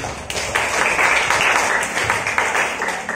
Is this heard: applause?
yes